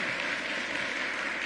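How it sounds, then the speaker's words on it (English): A crowd at a Brooklyn gubernatorial announcement claps for an assembly member, producing a brief, steady wash of applause at moderate level with no talking over it. "let's give her another round of applause"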